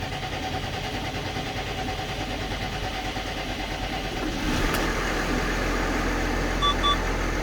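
A tractor engine turns over, catches and settles into a steady, rumbling idle, close and continuous, with a couple of faint beeps near the end and no talking.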